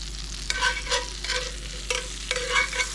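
Butter sizzling in a pan holding beef drippings as a roux is started, a soft steady fry with three or four short rhythmic swishes of stirring, close and without talk.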